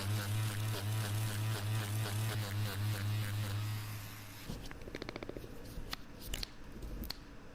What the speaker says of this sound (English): I'm going to carefully smooth the edges of the dent with the Dremel